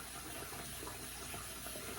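Tap water runs steadily from a faucet to wet a safety razor at the sink, a continuous even gush and splash at close range with no talking.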